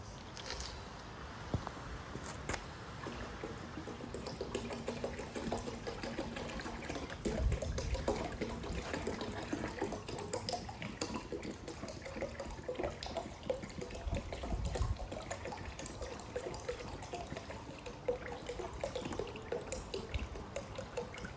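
Water runs into a K-series rear-wheel-drive car oil pan being checked for pinhole leaks, a continuous splashing trickle and pour with scattered drips, close and moderately loud throughout.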